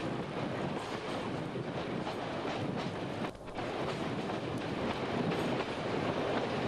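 Passenger train running north on a British railway line near Stoke Mandeville, around the 1960s–70s, gives a steady, loud broadband rumble with faint clickety-clack and wind buffeting, continuous throughout with a brief dip midway.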